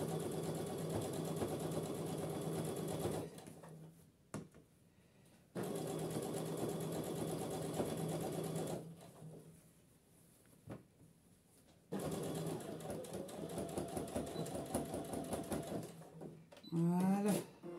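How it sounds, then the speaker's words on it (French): A sewing machine topstitches around the lined neckline of a blouse in three long, steady whirring runs with short pauses between them. Light handling noises fill the gaps, and a brief rattle comes near the end. "Je suis en train de faire la surpiqûre du tour de l'encolure de l'intérieur."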